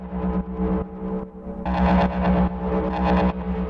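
A buzzy modular synthesizer oscillator, a Loquelic module, drones with a steady pitched tone, its timbre swelling brighter and gritty in pulsing bursts, loud and up close.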